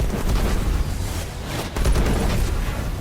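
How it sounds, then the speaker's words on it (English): A continuous heavy, rumbling Destiny 2 video game rocket explosion roar with deep low-end booms, loud and dense throughout with a brief dip midway. "rocket explosions have that huge sound"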